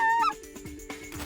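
Geese honk during a California goose hunt, with a few close, harsh honks and calls in quick succession, fairly loud.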